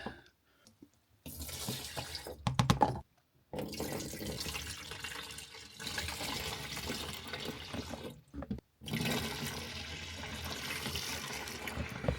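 Water pours and splashes into the tank of a Thetford Porta Potti 565P portable toilet, a loud rushing gush in several bursts separated by brief pauses, close and alone without talk.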